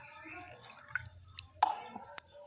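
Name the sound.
water being added to a shampoo mixture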